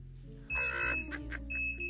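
Oven timer on a kitchen oven set for 15 minutes at 180 degrees while baking a lemon meringue pie, giving two separate electronic beeps, each a short steady tone, heard close over a low hum of the room.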